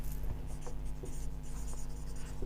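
Chalk or marker scratching steadily across a board during a chemistry lesson on IUPAC naming of organic compounds, a continuous close scribbling texture over a low room hum.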